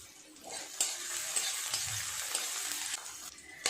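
Onions fry in oil for a spicy crab curry (chiti kankra tel jhal), giving a continuous close sizzle under repeated scraping stirs of a spatula, with a few sharper metallic knocks against the pan.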